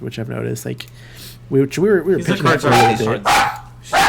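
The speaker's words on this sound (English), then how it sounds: "Sorry for the barking." A dog barks repeatedly in the background of a podcast conversation, several sharp barks and yips breaking in between and under ongoing talk.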